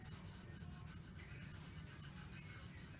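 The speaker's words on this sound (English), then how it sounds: "you just give it a good little rub. Make sure the vinyl adheres to the bottle." Vinyl decal being rubbed firmly onto a tumbler bottle, a faint, steady back-and-forth rubbing with soft rhythmic swishes, close and quiet.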